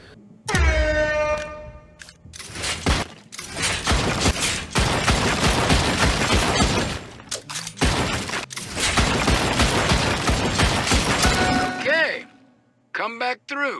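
Rapid bursts of gunfire at the gun range in the VR zombie shooter Zombieland Headshot Fever on Oculus Quest 2, loud dense volleys with short pauses, other game sounds and brief tonal chimes between them.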